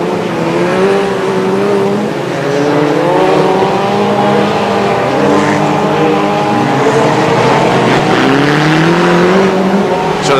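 Stock cars race around a speedway circuit, their engines droning steadily and overlapping as they circulate, with the roar holding loud and constant throughout.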